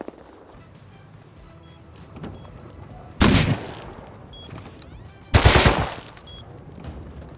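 Two loud, close gunshot bursts from the Rust survival game, spaced about two seconds apart, ring out over quiet ambient background and end in short decaying tails.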